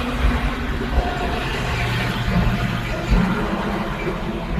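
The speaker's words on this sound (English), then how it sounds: "Excuse this UPS truck." A UPS delivery truck passes nearby, its broad low engine rumble steady across the whole stretch with a slight swell near the end, no voices over it.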